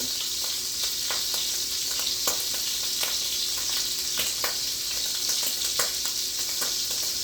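Shrimp frying in a pan over medium heat gives a continuous close sizzle with scattered sharp crackles and pops spread evenly, no talking over it.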